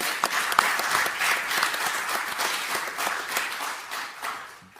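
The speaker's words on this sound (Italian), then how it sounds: "io farei un applauso comunque al Senatore" Audience applauding at a press conference for a digital-innovation event, a dense, steady patter of many hands clapping that fills the whole stretch and slowly thins toward the end.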